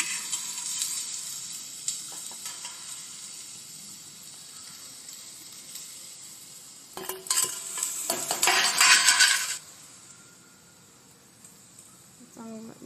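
Safflower leaves and onions sautéing in a pan, a steady low sizzle with a burst of louder stirring and scraping midway, then settling back to a quiet fry.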